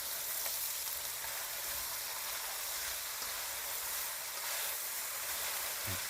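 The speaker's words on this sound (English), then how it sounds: "And now we're going to add in the carrot, celery, and onion. Now we'll give this a nice stir." Oxtail with carrot, celery and onion sizzling in a pot as it is stirred, a steady dense frying hiss throughout with faint scraping and no speech.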